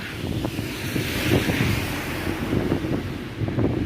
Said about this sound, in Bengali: ঝড় বৃষ্টি শুরু হয়ে গিয়েছে